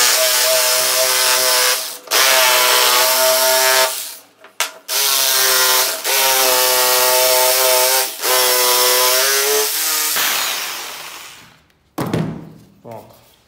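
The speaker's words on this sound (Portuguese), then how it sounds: "sobrando aqui é madeira de 18, MDF de 18. Por isso que eu tô sofrendo um pouquinho pra cortar." A power tool grinds through 18 mm MDF board in loud, close bursts of high whining cutting, broken by short pauses and strained pitch changes, ending with clunks and handling noise; someone talks briefly.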